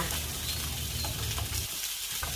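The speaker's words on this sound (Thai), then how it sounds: "เราก็จะใส่กระเทียมลงทอดค่ะ ทอดกระเทียมพอเหลืองเล็กน้อยนะคะ" Garlic fries in a pan with pork for tonteki, a dense continuous sizzle with a few light stirring scrapes, close and steady with no talk.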